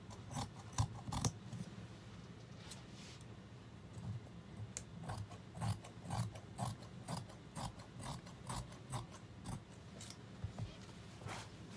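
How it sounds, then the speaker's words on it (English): Repeated crisp snips of scissors cutting through fabric, close and steady, with brief pauses between bursts of cuts. "Just take your scissors and then I'm going to cut everything out."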